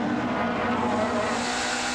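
Onboard a Nissan touring car racing at over 90 mph with a development engine in the 1993 British Touring Car Championship, a sustained high engine roar holds steady and loud for the whole brief moment.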